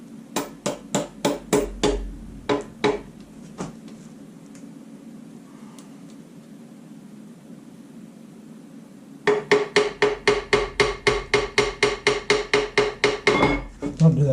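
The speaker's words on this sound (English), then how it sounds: "Sometimes you gotta just hammer it back in." Sharp metal hammer blows ring out while hammering a part back into a 5.7 Hemi engine during disassembly, in quick runs, a burst of strikes, a quiet pause, then a long rapid steady series close by.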